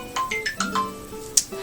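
A phone ringtone plays a short melody of bright, stepped electronic notes, clear and close, ending with a sharp high ping.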